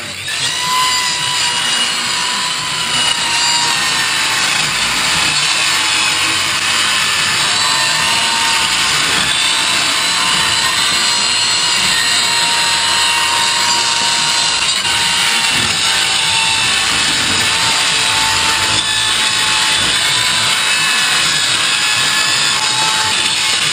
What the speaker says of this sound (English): I'm just gonna cut plywood gussets and screw them on there.